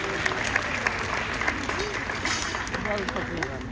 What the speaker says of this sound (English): Let's give Helen one more round of applause.